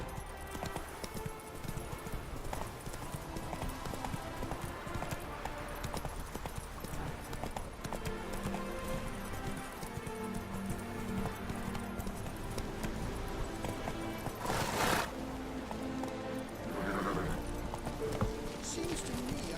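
Hooves of the horse Roach trotting in The Witcher 3, a steady, faint clip-clop rhythm running throughout under game music, with a brief louder burst partway through.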